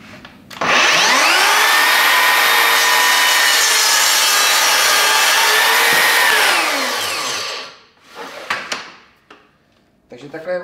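A Mafell K 85-18 cordless carpentry saw cuts through wood in one loud, sustained pass of about seven seconds, its whine steady under load before winding down, followed by a few short knocks and rustles.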